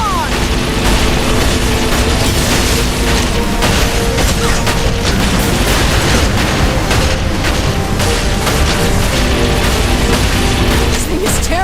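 Mounted guns fire continuously in the video game Saints Row IV, a loud, dense wall of booming gunfire and explosions, heavy rumbling battle noise with no pauses.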